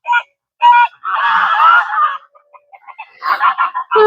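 Ducks and geese honk and chatter on a cool morning parade toward a pond, with several loud close bursts of calls separated by short pauses.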